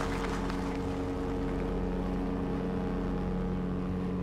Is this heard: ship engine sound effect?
yes